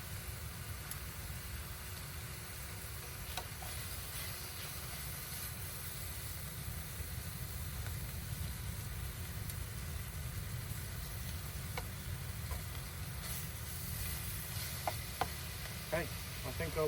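Bacon sizzling on a camp cooker outdoors, a steady close crackle and hiss running unbroken for a long stretch with faint background rumble.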